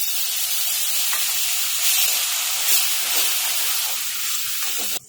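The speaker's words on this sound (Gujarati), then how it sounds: "ધીમા તાપે ડુંગળીને શેકા દઈશું" Onion paste fries in hot oil for pav bhaji, giving a steady, loud bright sizzle with light stirring scrapes close by. The sizzle cuts off abruptly at the end.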